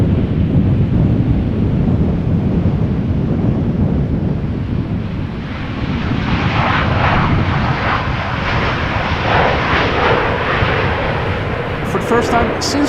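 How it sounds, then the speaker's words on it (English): A KLM Boeing 777 airliner at Amsterdam Schiphol Airport, back from Paris Charles de Gaulle in stormy weather, roars steadily as a broad jet rumble that swells midway, with heavy wind buffeting the microphone and a voice speaking over it. "a KLM B773-800 returning from Paris Charles de Gaulle, flight 1228"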